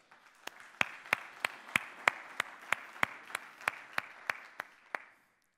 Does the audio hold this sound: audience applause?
yes